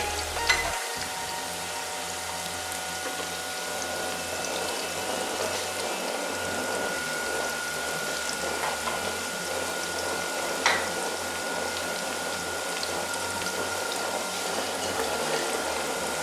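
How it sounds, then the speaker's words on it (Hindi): Water and rice boiling with spices and vinegar in a pot for Hyderabadi biryani, giving a steady, close bubbling and sizzling hiss that holds evenly throughout with no voices. "मसाले के साथ साथ ही हमारा पानी भी वो चावल भी बॉयल हो जाएंगे।"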